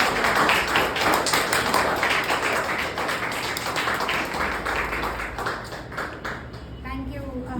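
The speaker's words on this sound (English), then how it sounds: "Give a big round of applause." An audience claps for a speaker at a Toastmasters club meeting, a dense, sustained patter of hands that thins toward the end as a voice begins to speak.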